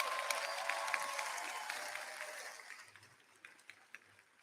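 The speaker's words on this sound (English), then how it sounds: "Let's give these fine young adults another round of applause." An audience at the 2022 Lynnwood High School graduation applauds the graduating class, with a broad crowd clapping that fades gradually, leaving a few scattered claps near the end.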